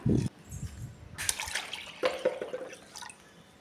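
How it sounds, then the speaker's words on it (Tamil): Water poured over ration rice in a bowl to soak it, a short splash at the start followed by quieter dripping and trickling, fairly close and alone. "இதில் வந்து நல்ல தண்ணி வந்து நான் ஊற்றி வச்சுக்கிறேன்"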